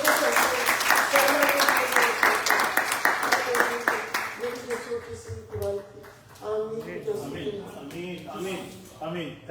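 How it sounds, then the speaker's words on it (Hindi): A church congregation applauds loudly at a Sunday testimony service, dense clapping filling the room while a voice speaks and sings over it, the clapping thinning out toward the end. "जोरदार तालियां"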